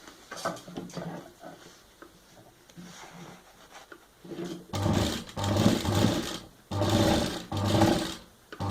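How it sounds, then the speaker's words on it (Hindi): Sewing machine stitching a cloth diaper bag, running in several loud bursts with short pauses, preceded by quieter handling of fabric. "अब हम इसको इस तरह से यहाँ से स्टिच कर देंगे।"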